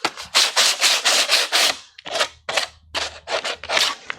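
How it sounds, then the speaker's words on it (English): An ABS plastic armor piece has its edge sanded with 120-grit sandpaper in a run of quick, loud, rhythmic rasping strokes, close up, with a brief pause partway through. "Do me a quick favor and sand the edge of that with some 120."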